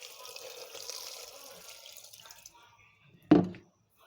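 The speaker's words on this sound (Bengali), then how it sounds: "এখন দিয়ে দেব পরিমাণ মতো" Water runs from a tap into a pressure cooker holding chicken and vegetables for a stew, a steady close splashing stream for about two and a half seconds, then a brief clank near the end.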